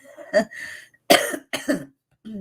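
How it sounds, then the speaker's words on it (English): Several harsh coughs in a row from one nearby person with COPD, with short pauses between them and a faint final cough at the end. "Excuse me for the coughing."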